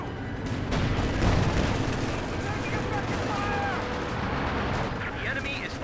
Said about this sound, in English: Contact! MG42!